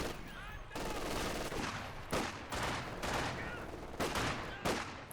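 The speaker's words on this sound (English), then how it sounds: "Double MG42 from Devem before even a second Grenadier." MG42 machine gun fire in the video game Company of Heroes 2, several long loud bursts of rapid automatic fire with short gaps between them.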